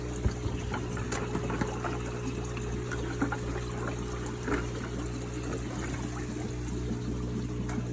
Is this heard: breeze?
no